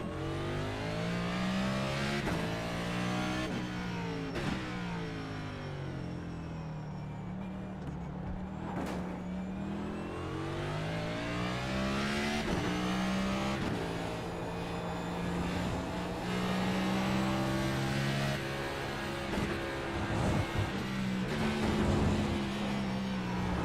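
Race car engine in a racing video game, revving and droning steadily with rising and falling pitch sweeps through gear changes, loud and continuous throughout, with a sharp burst near the middle and no talk.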